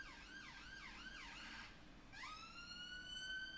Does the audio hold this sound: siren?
yes